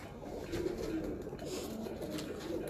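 Grey pied pigeons coo softly and continuously nearby, low murmuring calls repeating over a faint steady background.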